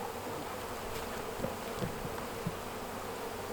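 Bees buzzing steadily close by during queen rearing, a continuous droning hum with a few louder passes as insects fly near.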